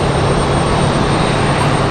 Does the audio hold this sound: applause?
no